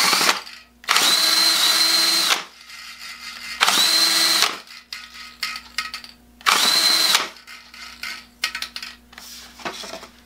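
Paint shaker running in three loud whirring bursts of about a second and a half each, with rattling and clinking between runs, close up.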